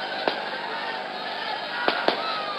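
Firecrackers go off at a political rally: three sharp, loud cracks, one early and two close together near the end, bursting over a constant wash of crowd noise.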